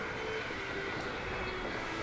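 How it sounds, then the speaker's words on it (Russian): Faint, steady low rumble of a train passing at a distance across canyon scenery in Hogwarts Legacy, a continuous even drone with no voices. "Вон там поезд проходит"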